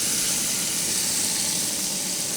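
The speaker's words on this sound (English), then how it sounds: "Listen for the sizzle." Thinly chopped onions sizzling in hot oil in a wok over medium heat, a loud, steady, close hiss with no talk.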